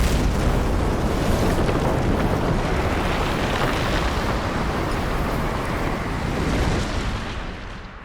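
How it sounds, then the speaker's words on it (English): A nuclear bomb detonates in Civilization VII, a massive sustained roaring blast that rumbles loudly for several seconds before gradually fading at the end, with no voices. "1887, we detonated a nuclear bomb"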